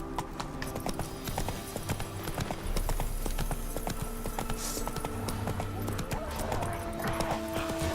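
Horse hooves clip-clop at a steady gallop in the video game The Witcher 3, a continuous rhythmic beat under game music and a voice speaking.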